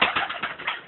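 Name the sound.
pigeon cooing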